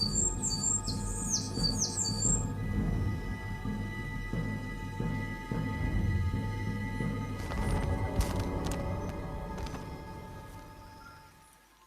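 Birds on an island in Brazil give brief high chirps early on, faint over a steady low background rumble, with scattered clicks and rustles later.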